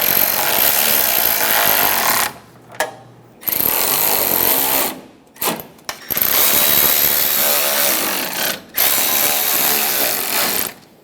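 Power tool driving four bolts into the bottom of a 2014-2018 Chevrolet Silverado 1500 grille gives loud, close rattling bursts of several seconds each, separated by short silent pauses.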